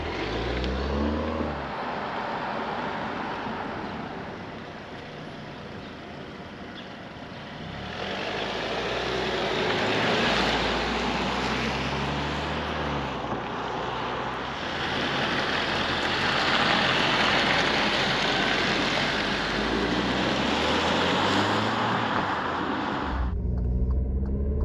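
A 2020 Alfa Romeo Stelvio Ti Sport on the move, its engine and road noise a steady, loud broadband rumble that swells and eases with throttle changes, with no talking.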